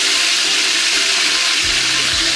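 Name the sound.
marinated chicken frying in very hot oil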